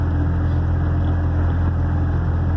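A Ligier X-too microcar with a newly fitted engine runs steadily while driving, a loud continuous droning engine and road rumble heard from inside the cabin with no voices.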